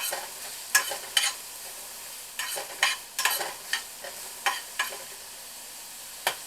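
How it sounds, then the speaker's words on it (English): Chopped onions sauté in a pan, hissing softly beneath repeated sharp scraping strokes of a utensil stirring them, close and fairly quiet. "we got our onions here sauteing"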